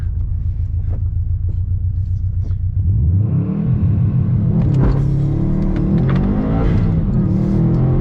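A tuned Subaru WRX STI idles with a deep, loud, lumpy rumble heard from inside the cabin, then the launch control engages and the engine roars up, revving hard and climbing as the car pulls away.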